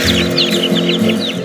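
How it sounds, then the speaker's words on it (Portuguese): Newly hatched chicks peeping inside a temperature- and humidity-controlled incubator at an ornamental bird breeder, a busy overlapping chorus of short high chirps, close and steady. "São 21 dias que os pintinhos passam dentro dessa chocadeira com temperatura e umidade controladas."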